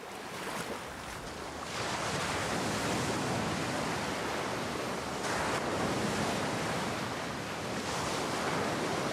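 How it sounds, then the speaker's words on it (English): Sea surf washing over a rocky shore on Santorini, where a stone-weighted goatskin sack lies soaking in the shallows; a steady, loud, close wash of water with slow swells, heard alone without voices. "puts it into the surf"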